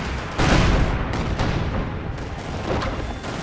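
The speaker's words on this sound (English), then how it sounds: "SU-5's open up with quite a volley" In a Company of Heroes 2 match, SU-85s fire a volley that rolls out as dense, rumbling booms, one heavy blast followed by overlapping distant artillery thuds.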